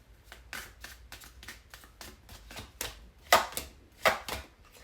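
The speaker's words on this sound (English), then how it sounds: "2 more shuffles" Tarot cards are shuffled by hand in repeated riffles and bridges, giving bursts of crisp papery flutter and soft slaps in an irregular rhythm, close and fairly quiet with no talking.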